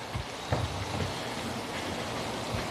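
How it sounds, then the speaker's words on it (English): Rain patters steadily on surfaces at moderate distance, a continuous hiss with scattered drop hits and a faint low rumble, no voices. "Okay, we got rain."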